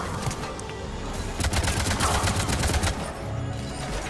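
Sustained automatic turret gunfire in Mass Effect 3 on Insanity difficulty, a loud continuous rattling stream of rapid shots filling the whole stretch with no pauses.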